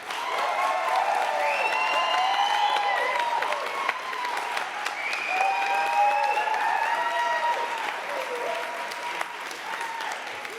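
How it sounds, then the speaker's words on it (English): An audience at a climate-change debate event applauds steadily for about ten seconds, a dense, even wash of clapping with a few brief whistles or voices in the crowd. "applause now"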